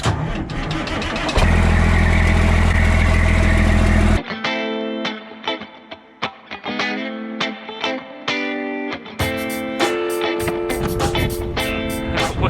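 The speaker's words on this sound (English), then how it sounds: "Cold start on a 96 Newell with a Detroit Series 60." A 1996 Newell coach with a Detroit Series 60 diesel cold-starts, giving a loud steady roar at first, then rough, uneven chugging pulses and a strong idle with engine harmonics, loud and close.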